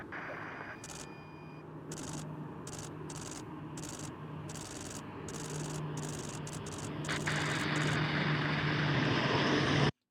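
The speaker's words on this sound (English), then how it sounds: "single Charlie 130 exiting the Mach loop at this time" A C-130 Hercules flies through the Mach Loop, its propeller drone building steadily louder toward the end, mixed with rapid camera shutter clicks and some voices.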